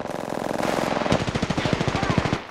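Gunfire from a full magazine emptied in the video game Apex Legends: a loud, rapid automatic burst of evenly spaced shots lasting over a second, following a brief stretch of lighter game noise.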